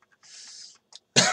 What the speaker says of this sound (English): that was not a fun cough